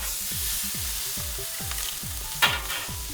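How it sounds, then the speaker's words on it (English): Venison shoulder sears in a hot pan with a steady, bright sizzle. Soft rhythmic pulses repeat underneath, and one sharper spit or pop stands out near the end. "We're just trying to sear that outside"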